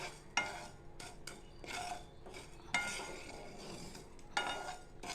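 Small amount of whole spices dry-roasting in a pan for red chilli pickle, a few quiet scraping stirs with a spatula over faint low sizzling, no voices.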